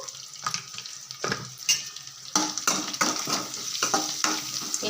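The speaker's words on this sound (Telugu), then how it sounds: "ఇప్పుడైతే పసుపు వేసుకున్నాక కలిపేసాను" Curry leaves and turmeric stirred in a hot pan, a steady sizzle overlaid with repeated scraping strokes of a spoon, growing louder and busier partway through.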